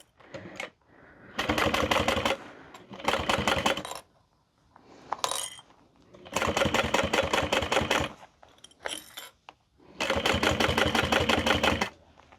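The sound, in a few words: sewing machine stitching a handbag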